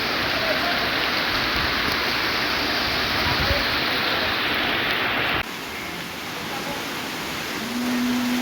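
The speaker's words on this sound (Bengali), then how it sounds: "বৃষ্টি হচ্ছে, পানির স্রোত দেখলে বুঝবেন।" Heavy rain hisses steadily as a dense, loud wash, with water rushing and flowing close by. The downpour continues without a break, easing slightly near the end, and no one talks over it.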